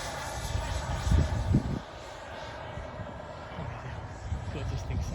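A radio-controlled model airplane fitted with a very large engine drones in flight, a faint, distant and steady whine that swells a little early on with a couple of low thumps.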